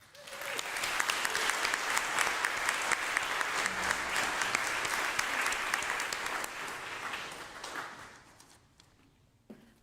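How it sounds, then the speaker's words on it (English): A church congregation claps in a sustained, even round of applause for about eight seconds before thinning out and fading, with a few scattered claps at the end. "One more round of applause."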